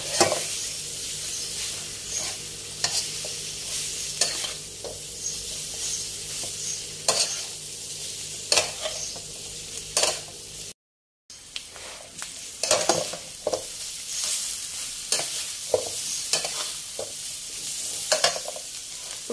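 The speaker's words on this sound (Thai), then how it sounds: "ผัดเครื่องแกงหอมดีแล้วนะคะก็ใส่ปลาดุกลงไปค่ะ" Catfish stir-frying in a pan with red curry paste, galangal and krachai, giving a steady close sizzle with repeated scraping stirs throughout and one short silent gap.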